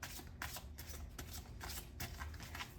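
Tarot cards are shuffled repeatedly in quick, rhythmic riffling bursts, close and fairly soft, with no talking.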